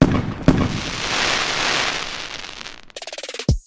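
Fireworks exploding, with a sharp bang at the start and another soon after, a broad hissing rumble of bursts, then a rapid crackle of small pops and a final loud burst near the end.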